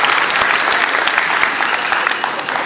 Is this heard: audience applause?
yes